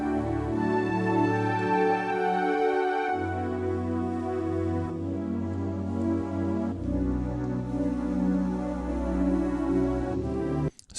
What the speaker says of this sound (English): go back and have a listen to the ice pad on its own so you can understand what I mean.